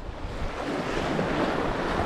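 Strong wind buffets the microphone in a steady, loud rush, blending with the wash of surf on a UK shore.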